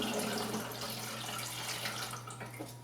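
Developer and fixer liquid is poured into a beaker during C-41 film processing at a sink, a steady continuous splash and trickle heard close up with no talking.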